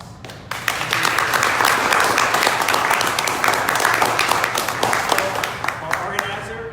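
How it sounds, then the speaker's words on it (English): A warm round of audience applause for panelists at a Santa Fe film festival gathering, broad, dense clapping rising after a brief lead-in and carrying on, with voices mixed in toward the end. "I do want to give our panelists a warm round of applause."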